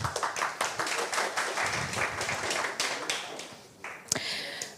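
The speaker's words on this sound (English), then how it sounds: "Applause, please." Audience at a startup pitch day at CES 2022 in Las Vegas clapping, a burst of scattered, uneven handclaps from a small crowd that thins out and then ends with a few last claps.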